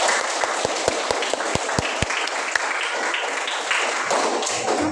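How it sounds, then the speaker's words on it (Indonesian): A small group applauds at the end of a lesson about the birth of Pancasila, with several distinct sharp hand claps over a steady bed of clapping that fades after a few seconds. "Oke, tepuk tangan dulu dong."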